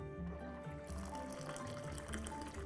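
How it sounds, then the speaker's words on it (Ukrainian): Hot water pours into a vessel over sea buckthorn and anise for homemade tea, a short steady splashing fill at close range with no talk. "І заливаємо все гарячою водою."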